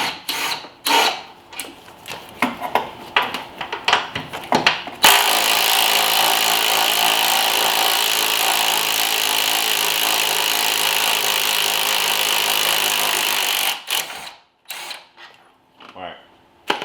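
Power tool removing bolts from an engine bracket on a Nissan Altima during engine removal: short bursts and clatter at first, then a loud, steady whirring run of about nine seconds before more brief clicks, close to the microphone.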